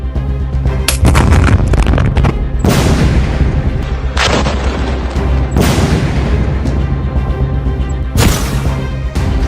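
Explosions in the Israel-Hamas war, a series of loud, heavy booms about every one and a half to three seconds over a constant low rumble, each blast sharp and thunderous.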